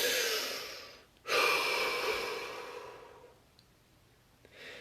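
A deep breath drawn in slowly and loudly, then a long soft exhale tapering away, followed by a quieter second intake near the end, close and alone with no talk.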